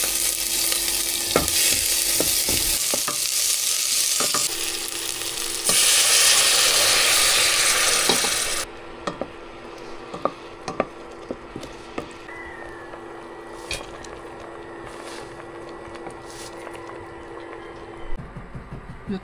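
Fern and canned squid sautéing in a pan, a loud bright sizzle for the first half that then drops to a quieter frying hiss with scattered clinks and stirring taps.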